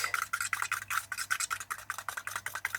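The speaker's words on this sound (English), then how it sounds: "I'm gonna just use the back of a brush just to stir it" Watercolor paint being stirred with the back of a brush handle, a close, soft rhythmic scraping and rubbing in quick repeated strokes, with no voices.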